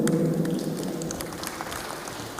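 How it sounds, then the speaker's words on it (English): Applause from an audience at a university innovation week presentation session, starting under a low hum and continuing as a moderate, even patter. "So shall we clap for them?"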